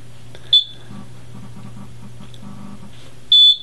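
Two short, sharp electronic slalom course timer beeps, one early and one near the end, over a steady low boat engine hum with faint rhythmic clatter between them.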